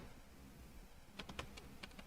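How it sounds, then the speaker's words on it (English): Typing on a computer keyboard, quiet at first, then a brief burst of soft, irregular key clicks close by over a faint background hum. "Okay, I'm typing"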